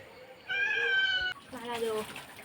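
A cat meows twice in quick succession, the first call long and tonal and the second lower and shorter, fairly close and clear above a faint background hiss.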